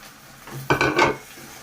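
Fried chicken and carrots are stirred in a pot, with a short burst of two or three clattering utensil knocks against the metal and a faint background of cooking.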